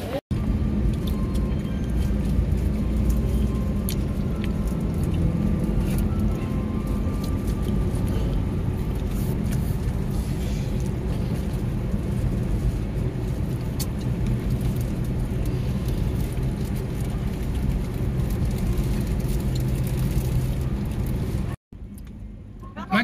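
Dense road traffic in a jam outside a bus terminal, heard from inside a bus: a continuous low rumble of engines and tyres with scattered knocks and clatter, steady and fairly loud for the whole stretch before a brief cutout near the end.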